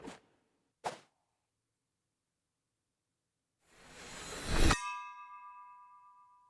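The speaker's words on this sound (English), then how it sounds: "Please ring the dragon bell." A dragon bell rings in the video game Dragon Loop: two short soft knocks, then a rising whoosh that swells into one bright metallic strike, leaving a clear sustained chime that fades slowly.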